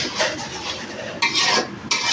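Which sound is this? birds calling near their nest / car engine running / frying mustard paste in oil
frying mustard paste in oil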